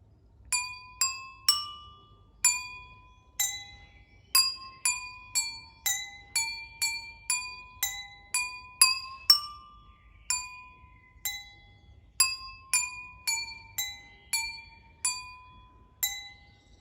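A simple tune tapped out on glasses tuned with water, clear ringing clinks in a steady melodic rhythm, faint background hum beneath.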